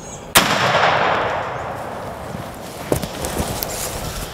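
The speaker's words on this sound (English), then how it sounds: "Shoot him." A single loud shotgun blast fired at a wild turkey during a spring hunt in South Georgia, a sharp crack near the start followed by a long open-air decay, with faint rustling and footsteps afterward.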